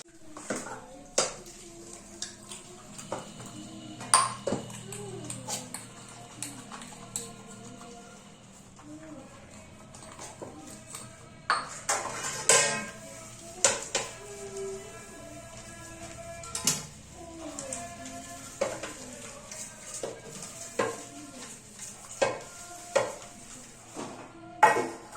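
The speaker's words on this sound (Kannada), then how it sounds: "ಫಸ್ಟ್ ಪಾತ್ರೆ ಎಲ್ಲ ವಾಶ್ ಮಾಡ್ಕೊಬಿಡ್ತೀನಿ." Dishes, pots and utensils clatter and clink while being washed at a home kitchen sink, irregular knocks and scrapes throughout at moderate level, with running water and some faint background music-like tones.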